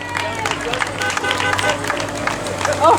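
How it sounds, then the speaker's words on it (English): Festival crowd clapping and cheering for the town mayor at an outdoor Strawberry Festival, a steady wash of applause and chatter with a brief honk near the end. "behind you is clapping and honking"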